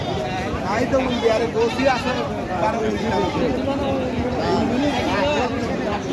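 Totapari goats bleat repeatedly amid a busy crowd of chattering voices at the Baneshwar goat market, a dense, noisy babble with animal cries rising above it.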